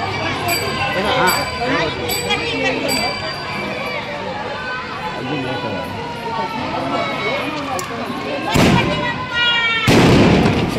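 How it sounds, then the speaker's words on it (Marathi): Firecrackers crackle and pop in dense bursts amid a noisy outdoor crowd at a palanquin procession during a Hindu religious festival, with two louder sharp blasts near the end. "तुम्ही बघू शकता खूप छान प्रकारे फटाके चालत"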